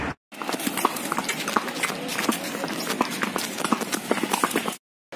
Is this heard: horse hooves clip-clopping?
yes